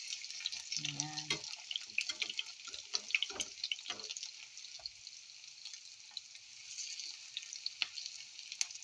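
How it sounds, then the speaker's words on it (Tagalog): Okoy fritters made with dried small shrimps frying in oil, a constant close hiss and crackle running throughout, with a brief voice and a few clinks near the start. "Cooking or frying okoy. Dried small shrimps."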